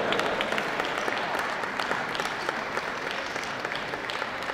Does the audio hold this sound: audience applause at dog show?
yes